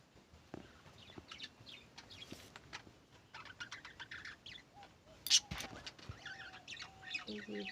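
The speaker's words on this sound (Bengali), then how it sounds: "এই যে পাখিগুলো কিচিমিচি করছে।" Several birds chirp and twitter outdoors in short, scattered bursts, fairly faint, with one louder sharp call partway through and a soft background hum.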